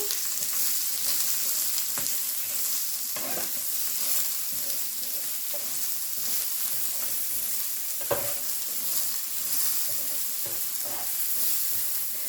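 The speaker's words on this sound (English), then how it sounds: "it's already kind of smoking up. So I'm going to add my onions on here." Onions frying in a hot, already smoking pan for a hash brown omelette give off a steady, close sizzle that runs the whole time, with occasional sharper crackles and spatters and no voices.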